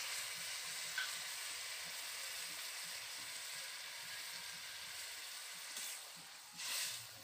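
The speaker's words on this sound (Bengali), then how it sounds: "এবার দিয়ে দিচ্ছি পরিমাণ মতো জল।" Taro and freshwater snail curry sizzles loudly in a pan as water is added, giving a steady hiss with a brief bubbling surge near the end and no talk.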